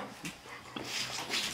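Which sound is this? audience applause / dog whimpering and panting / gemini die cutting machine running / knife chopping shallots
dog whimpering and panting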